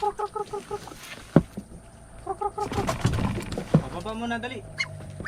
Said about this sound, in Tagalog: Kailangan kong pababain muna yung mga naglilimlim na pato